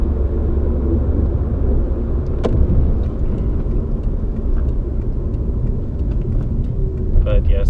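A car driving on a road through a construction zone, heard from inside as a steady low engine and road rumble, with a few faint clicks and a person talking over it.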